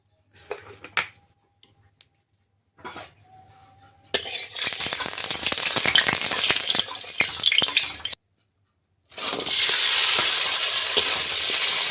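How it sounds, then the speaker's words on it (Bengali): A fish head fries in hot oil in a home kitchen, a loud, close, continuous sizzle and crackle that breaks off briefly and then resumes, with a few faint clinks and taps before it begins. "তো মাছটা আগে ভাজা ছিল তবু আর একবার ভালো করে ভেজে নিচ্ছি"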